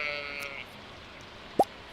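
A single short sheep bleat from the Stardew Valley farm game sounds briefly and fairly loud near the end, after a faint background tone that fades out early.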